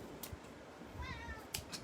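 A pet cat meows once, a short rising harmonic call close to the microphone, set against quiet indoor room noise with a few faint clicks.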